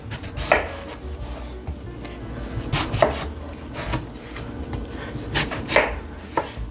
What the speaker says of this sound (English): if you have a smaller personal size watermelon, kind of like this, then we can just do slices